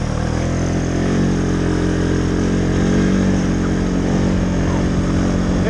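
A Can-Am Outlander XMR 700 ATV cruises in four-wheel drive on a trail, its engine droning loud and close at a steady throttle the whole time, with no speech.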